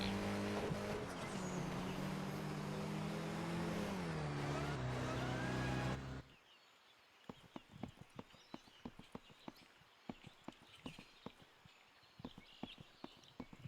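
A vehicle drives in the zombie survival video game Humanitz, with a loud, steady engine drone that cuts off abruptly partway through, followed by quieter rapid clicking and tapping impacts.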